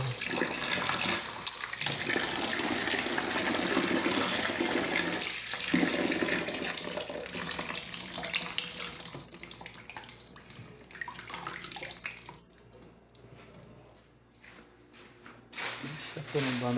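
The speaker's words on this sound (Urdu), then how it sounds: "اب میں پانی ڈال رہا ہوں اس میں۔" Water pours steadily into a plastic shopping bag holding aluminium foil, a continuous splashing rush that fades near the end, with someone talking over it.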